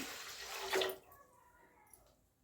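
About 4.5 cups of water pour into a pot of rice in a brief splashing rush, then trickle off, leaving quiet dripping and faint movement afterward.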